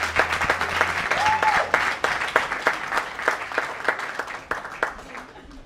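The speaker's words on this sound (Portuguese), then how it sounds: "Mais aplausos para o Nelson Vemba, por favor." An audience applauds a comedian at a live comedy show with dense clapping that fades gradually toward the end, while a voice speaks over it.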